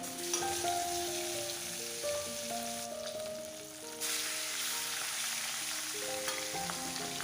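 Katla fish pieces sizzle as they fry lightly in a pan, a steady, close crackle that runs throughout with occasional soft stirring clinks.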